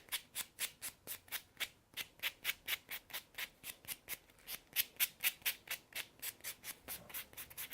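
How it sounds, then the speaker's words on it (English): A nail buffer rubs back and forth across fingernails in fast, even, rhythmic strokes, close and soft, repeating steadily throughout with no talking. "Now once you're done buffing them out"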